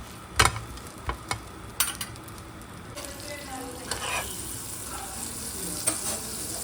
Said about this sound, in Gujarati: તો એક બ્રેડ પણ હું જોડે જોડે શેકી રહી છું, બ્રેડ બટર ખાવા માટે